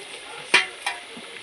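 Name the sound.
stirring mutton in a pot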